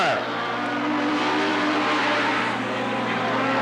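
Speedway race bikes roar past at close range, a 1230cc Kawasaki and a 1200cc Yamaha dueling on a dirt oval at Cottage Grove Speedway in 1991, their engines holding a steady loud drone throughout.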